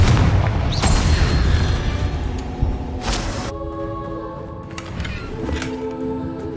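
Blasting spell explosions in the Hogwarts Legacy video game: a dense roar of booming bursts and crackling impacts, with a sharp blast near the middle, then fading into ringing tonal magical effects.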